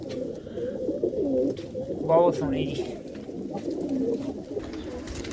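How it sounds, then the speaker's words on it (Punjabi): Large pigeons coo softly in a loft, low rolling calls repeating under close conversation, with a brief flutter of wings partway through. "ਇਹ ਵੱਡੇ ਕਬੂਤਰ ਆ ਭਾਈ ਸਾਰੇ"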